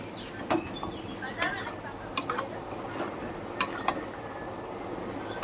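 A spoon scrapes and clinks against a pan as mango pickle is stirred, with scattered metallic taps at an uneven rhythm under a low background hum and occasional speech.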